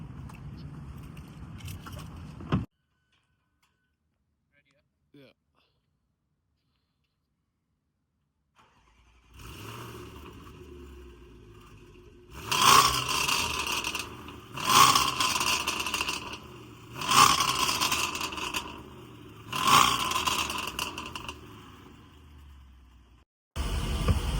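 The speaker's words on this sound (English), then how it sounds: "let's start it up and let's hear this beast fire up" A stolen-recovered Range Rover SVR engine cranks and catches after a quiet pause, then revs in several loud bursts before settling into a steady idle.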